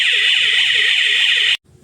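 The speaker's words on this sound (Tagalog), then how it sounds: "Kapag umulan sa labas, kusa yan mag-a-alarm." Rain sensor module alarm blaring a loud, steady warbling electronic tone, repeating in a fast rising and falling sweep for about a second and a half, then cutting off abruptly into near silence.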